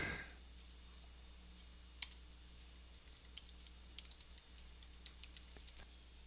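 Someone types a short line of text on a computer keyboard, a quiet burst of irregular key clicks quickening toward the end after a near-silent start.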